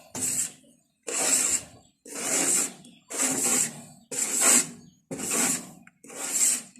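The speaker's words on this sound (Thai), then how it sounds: "ที่นี่เราขูดมันออกเลยจ้ะนะ่ะ" Thick grease being scraped off a surface in seven steady, even rasping strokes roughly a second apart, close and loud with no talking.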